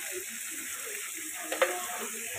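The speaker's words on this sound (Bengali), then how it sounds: "চিংড়ি মাছগুলো দিয়ে দিলাম। দেন আমি এখন খুব ভালো করে এটা একটু নাড়তে থাকবো।" Shrimp frying with greens in a pan, a steady soft sizzle with a faint high whine over it and one brief clink as the mixture is stirred.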